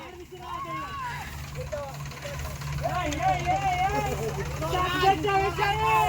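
A tractor stuck while out fetching fodder drones and strains at a steady low pitch. Several voices shout and talk loudly over the engine the whole time.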